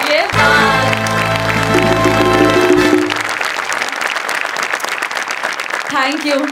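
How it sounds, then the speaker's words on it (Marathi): Audience at a Marathi comedy show applauding loudly with a dense, steady clatter of clapping, joined by music at first and then by a voice speaking over the fading applause. "तुमच्यासाठी परत एकदा उभं राहून टाळ्या वाजवायच्या तुम्हाला."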